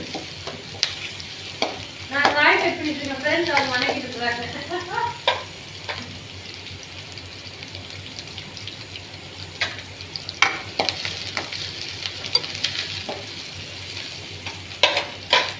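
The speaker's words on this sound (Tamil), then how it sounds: "ஆனியனை கொஞ்சம் நேரம் பொன்னிறமாக வதக்கினா தான் நல்லாயிருக்கும் ஃப்ரெண்ட்ஸ்" Onions sauté in a pan until golden brown for a mango and drumstick sambar, soft sizzling under intermittent scraping and stirring strokes, fairly quiet and close, with no talking.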